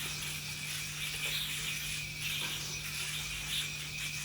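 A steady, fine whirring rattle of a spinning yo-yo bearing, close and continuous, with a constant low hum beneath and slight pulsing in intensity.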